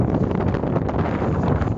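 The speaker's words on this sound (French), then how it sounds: "Et si vous entendez le vent franchement ça souffle à donf hein" Strong wind buffets a microphone outdoors at night, a dense, steady low roar with continuous rumbling gusts and no letup.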